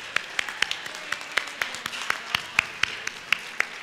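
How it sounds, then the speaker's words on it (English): Applause for the planning committee at an Asian New Year event: a thin scattering of sharp, distinct hand claps at a steady pace, close and fairly sparse, like only a few people clapping. "Can we give them a huge round of applause?"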